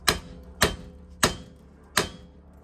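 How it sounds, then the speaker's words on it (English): A big hammer strikes a front suspension part of a 2015-2022 Ford Mustang during a lowering-spring install, four sharp metallic blows about half a second apart, close and loud with brief ringing decay. "let's grab a really nice and big hammer and just hammer on this"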